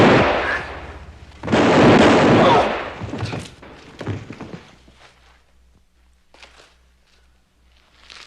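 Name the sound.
gunshot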